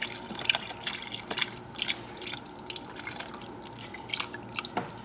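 Two cartons of beef broth pour into a cooking pot, giving soft, uneven liquid splashing and dripping with a few brighter splats, moderately close and fairly quiet throughout.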